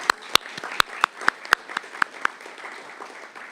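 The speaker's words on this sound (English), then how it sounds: "Let's give him a round of applause." Audience applause at a town hall on flood and disaster preparedness, heard as a run of distinct hand claps, fairly close and thinning out toward the end, with no talk.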